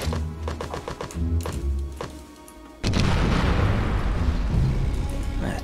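A sudden loud blast in the video game Conflict: Desert Storm cuts in midway, followed by a roaring noisy rumble that sustains to the end, after a stretch of busy tonal game sounds.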